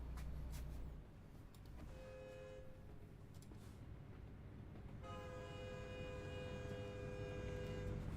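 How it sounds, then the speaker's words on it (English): A train horn sounds at a level crossing in American Truck Simulator, two steady blasts over the low rumble of a truck cab, with the second long horn blast holding loudly to the end. "Oh, it's a train."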